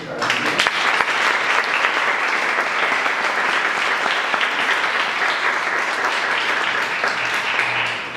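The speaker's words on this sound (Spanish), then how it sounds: "le damos un fuerte aplauso" An audience at a conservation talk on the scarlet macaw in the Lacandon jungle gives a hearty round of applause. The clapping is dense and sustained for about eight seconds and tapers slightly at the end.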